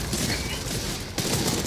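Rapid automatic gunfire from a shoulder turret in the video game Modern Combat 5: Blackout rattles in sustained bursts, with a brief break partway before the shooting resumes, loud and close.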